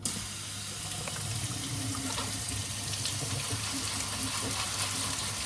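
A kitchen tap runs steadily into a sink, a continuous close rushing and splashing of water that holds evenly throughout with a faint low hum beneath.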